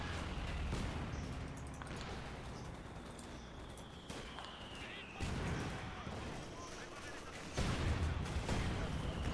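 Artillery shells and explosions crash repeatedly during a Company of Heroes 2 battle, mixed with scattered gunfire and dense combat noise, with loud bursts around the middle and end, while someone talks over the action.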